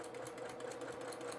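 Sewing machine stitching curved patchwork pieces of quilting fabric at a slow, gentle pace, a steady soft whirring hum that runs continuously and close by with no breaks.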